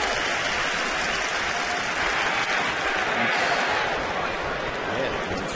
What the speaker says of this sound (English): Big crowd, a lot of them standing.